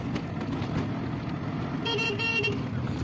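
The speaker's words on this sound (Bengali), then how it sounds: "তা আমরা এখন অটোয় উঠেছি" Auto rickshaw ride on a busy road, with steady traffic and engine rumble throughout and a car horn honking clearly near the end, no talking.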